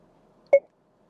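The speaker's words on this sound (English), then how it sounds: "Push your voice command button, wait for the beep" Lexus voice command beep, a single short, clean electronic tone standing alone in near silence.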